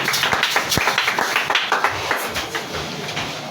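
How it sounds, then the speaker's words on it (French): A church congregation breaks into steady applause, dense overlapping claps sustained and fairly loud throughout, with no voices standing out. "on acclame la parole de l'Éternel"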